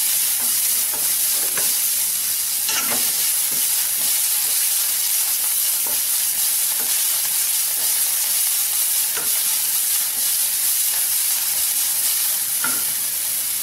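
Green chilies and curry leaves frying and sizzling in a small amount of oil with cumin seeds, a steady crackling hiss with occasional stirring taps, close and continuous, no talking.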